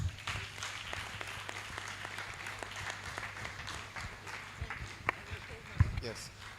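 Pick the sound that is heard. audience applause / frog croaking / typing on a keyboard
audience applause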